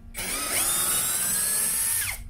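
A Toyoko cordless drill/screwdriver runs at steady high speed for about two seconds, a loud close whine with a brief change in pitch as it spins up and winds down.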